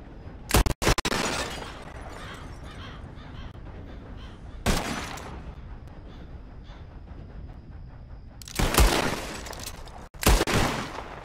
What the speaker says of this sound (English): Whoever shoots more of these bottles, win.